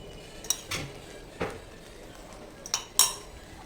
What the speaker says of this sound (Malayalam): ഇത് ബബിൾ ഒന്ന് വരുന്നവരെ നമുക്കൊന്ന് ഇളക്കിക്കൊണ്ടിരിക്കാം